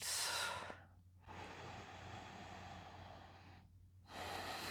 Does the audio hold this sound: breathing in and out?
yes